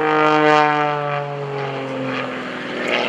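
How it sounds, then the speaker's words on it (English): Gary Ward's aerobatic propeller airplane passes at the 2015 Greenwood Lake Airshow, its loud engine drone holding a strong buzzing tone that slides lower in pitch as it passes. "airplane fully capable of any and all world-class aerobatics"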